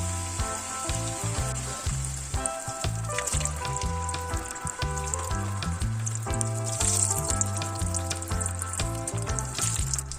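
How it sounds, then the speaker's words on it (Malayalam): Snacks fry in hot oil in a pan, giving a steady, continuous sizzle beneath prominent rhythmic background music that runs throughout. "നമുക്കൊന്ന് വറുത്ത് പോരാം"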